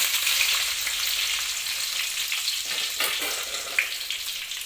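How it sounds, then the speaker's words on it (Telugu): Peanuts, chana dal and curry leaves fry in hot oil for tamarind-leaf pulihora, a steady close crackling sizzle with a few brief stirring scrapes and no talking. "పల్లీలు కొంచెం శనగపప్పు వేసుకోవాలా కరివేపాకు వేసుకోవాలి"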